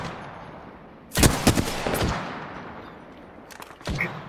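Gunfire in the video game Apex Legends: a loud cluster of quick shots, then a quieter stretch and a couple of later bursts, all fairly close.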